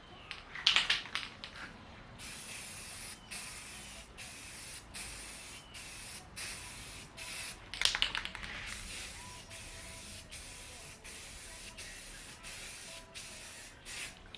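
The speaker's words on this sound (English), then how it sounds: "Just finished putting a second coat of primer onto the scoops" Primer is sprayed from a can onto the side scoops of a 1994-1998 Ford Mustang, heard as a regular series of short hissing bursts with two louder rattling spurts and no talking.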